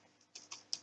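A few quiet computer keyboard keystrokes, three distinct soft clicks spaced a fraction of a second apart, faint and close in an otherwise quiet room.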